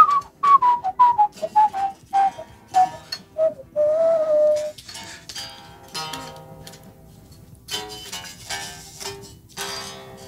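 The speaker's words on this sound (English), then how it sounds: "I'll whistle the lead." Someone whistles a bouncy melody with short notes and a held tone, followed by clicks and tapping sounds as the tune fades.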